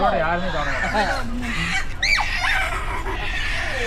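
Chickens squawking and clucking in a busy, noisy animal market in Jeddah, Saudi Arabia, several birds calling over a constant crowd murmur.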